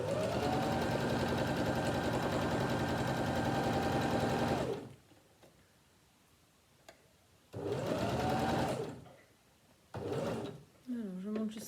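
Sewing machine stitching a fabric face mask, loud rapid whirring runs for several seconds, stops, then returns in two shorter bursts separated by quiet handling noises.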